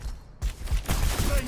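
Hazard's weapon firing in Overwatch during a playtest: a string of loud, punchy blasts close up, several shots in quick succession with brief gaps, ringing into each other.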